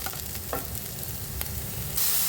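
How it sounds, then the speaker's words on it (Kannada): Tomatoes fry in a pan with a continuous close sizzle, broken by a couple of soft stirring scrapes, before the hiss swells louder at the end; nobody speaks. "ನೋಡಿ ಈಗ ಟೊಮೆಟೊನ ಹಾಕ್ಕೊಂಡು ಫ್ರೈ ಮಾಡ್ತಾ ಇದ್ದೀನಿ"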